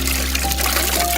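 A green liquid of ground coriander, mint, green chilli and ginger is poured in a steady, continuous stream over a low background hum.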